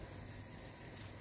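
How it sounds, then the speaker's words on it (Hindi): Mixed vegetables of potato, peas, carrot and cauliflower boiling in a pot, a soft continuous bubbling hiss close by and fairly quiet, with no other sounds. "माशाल्लाह सब्ज़ी हमारी अच्छी बॉयल हो रही है।"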